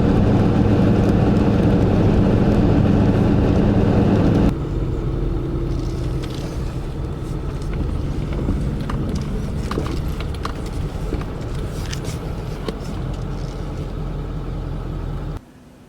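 A car driving along a road after a Louisiana storm, heard from inside as a steady engine and tyre rumble, louder at first and then quieter and even until it cuts off.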